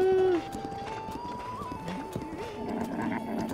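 Horse hooves clip-clopping in Zelda: Breath of the Wild, a steady trotting patter heard fairly close beneath game music tones, with a louder tonal swell at the very start.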